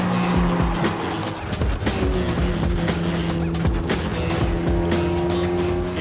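Race cars driving hard through a track corner, engines droning loud and continuous with rising and falling pitch and occasional tire squeal, several cars overlapping with no pauses.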